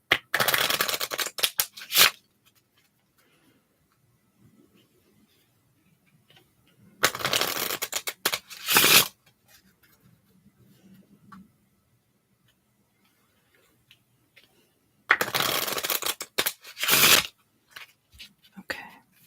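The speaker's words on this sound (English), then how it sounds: "just going to shuffle these cards a little bit" A deck of tarot cards shuffled in three separate bursts of quick riffling and tapping, close and crisp, separated by long quiet gaps with faint soft speech in between.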